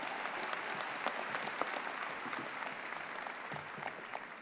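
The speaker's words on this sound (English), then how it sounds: "Give him another round of applause." Audience applause at an undergraduate commencement ceremony, a dense, sustained clapping from a large crowd, steady and fairly distant throughout.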